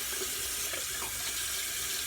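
Running tap water pours steadily into a sink as a makeup brush is rinsed under the stream, a loud continuous splashing hiss with no talk.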